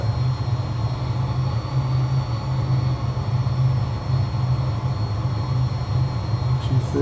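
Steady, continuous drone of an aircraft engine in Microsoft Flight Simulator during a low recon flight, a constant low hum with broadband roar holding level throughout, no voices.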